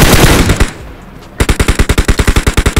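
Automatic gunfire in the PUBG Mobile game: a short early burst, a pause, then a loud, rapid, evenly spaced string of about fifteen close shots with no talking.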